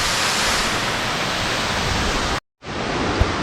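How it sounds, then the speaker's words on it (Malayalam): Loud, steady broadband roar of the waterfall at Thusharagiri, close and continuous, cut by a brief silent gap before the rush resumes with a couple of small knocks. "ഓക്കെ, അടിപൊളി വാട്ടർഫാൾ."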